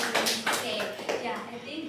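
A class claps briefly at the end of a bilingual lesson, a few scattered hand claps sounding close and moderately loud under a background murmur of voices.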